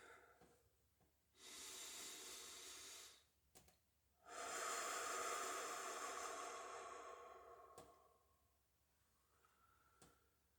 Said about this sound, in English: So, take a deep breath with me.